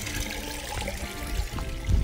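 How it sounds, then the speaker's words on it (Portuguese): Water trickling through gutters along a garden handrail into a clay pot, a continuous gentle splashing and dribbling with a slightly stronger splash near the end. "são calhas aqui, ó, no corrimão, conduzindo a água até esse vaso de barro"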